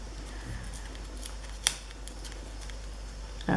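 Scissors snip through scrapbook paper in a brief cut, a quiet rustle leading into one crisp close snip, with a faint low hum underneath.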